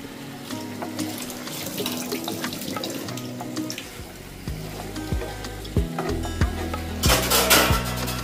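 Drinking water runs from a kitchen tap into a vessel, a steady close splashing stream with light clinks of dishes and utensils, heard alone.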